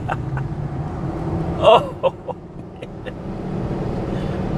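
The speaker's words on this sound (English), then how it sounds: "This truck puts the speed in speed bumps." A Ford V10 4x4 truck rolls over speed bumps with a steady road and engine rumble. A few sharp thumps come in quick succession, and a brief exclamation is heard.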